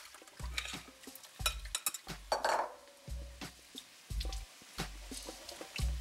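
Quinoa being rinsed with water in a kitchen, repeated wet swishing and draining pulses with soft clinks against a strainer or pan, quiet and close.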